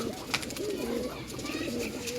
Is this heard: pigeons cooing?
yes